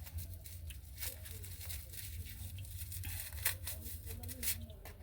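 Perfume packaging is torn and ripped open up close, quick papery tearing and crinkling bursts repeating irregularly, with a person talking softly over the rustling.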